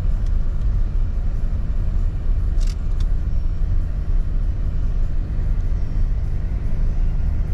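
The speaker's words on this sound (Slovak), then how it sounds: "Ako to auto nevládze hore. Slabé, že tento benzín bez turba?" Non-turbo petrol car engine labouring up a steep San Francisco street, a steady low rumble of continuous road and engine noise heard from inside, without voices.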